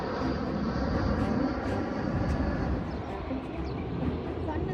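An airplane coming in to land over desert surroundings, a broad steady roar from a distance that holds at a constant level.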